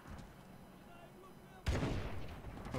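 A burst of gunfire in the Modern Warfare Remastered video game, a sudden loud blast after near silence, with ringing echo and rumble trailing off.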